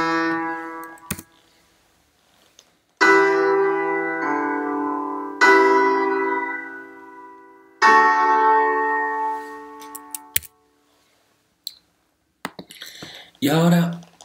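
Sustained piano chords sound one after another, a seventh chord followed by its resolution to the tonic, each block ringing clearly and decaying in a quiet room, with brief clicks and a short voice near the end.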